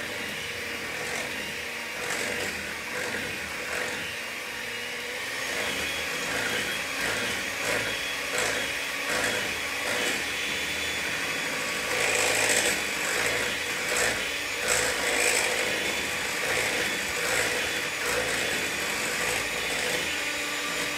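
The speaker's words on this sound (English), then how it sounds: "I've got an electric whisk" An electric hand whisk beats chocolate chip pecan pie bar batter in a bowl, a steady close motor whine running continuously with slight rises in pitch and loudness, no talking over it.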